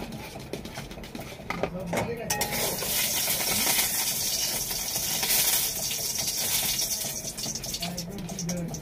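Egg frying in hot oil in a pan, a loud, steady sizzle and crackle that fills the whole stretch without a break, with some clatter near the start.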